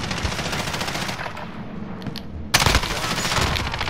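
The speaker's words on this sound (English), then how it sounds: "I shot him with one bullet" Rapid automatic gunfire in Call of Duty Modern Warfare, a dense rattling burst that thins out briefly before a loud, sharp volley resumes at close range.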